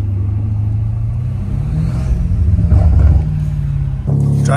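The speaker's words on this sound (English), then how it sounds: "Driving the homies M3" A BMW M3 Competition fitted with downpipes drives along, its engine a deep, close rumble heard from inside the car that swells as it accelerates, then drops off and revs briefly again at the end.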